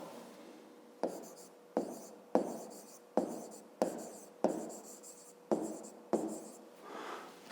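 A pen writes a maths solution on paper, making close, crisp scratching strokes in about eight evenly spaced bursts, each starting with a tap and fading away, in a quiet room with no talk.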